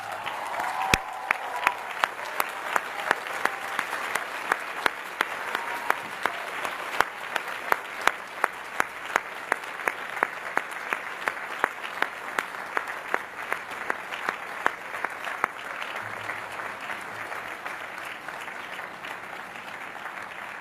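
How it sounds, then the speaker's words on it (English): At a graduate commencement ceremony, master's and doctoral candidates and the audience give a long, sustained round of applause for friends and family. Dense clapping holds steady for about fifteen seconds before gradually thinning and fading. "I would ask, in fact, all MA and PhD candidates to rise and applaud those friends and family members who have helped them be here today"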